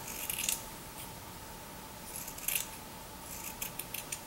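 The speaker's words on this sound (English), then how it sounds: "next you cut out the heart shape." Scissors snip through felt while a heart shape is cut out for a garland craft, a few short quiet crisp cuts spaced out in an otherwise hushed room.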